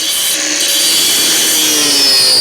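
A power tool cuts through a metal part ahead of welding, a loud, steady grinding whine running unbroken for the whole stretch.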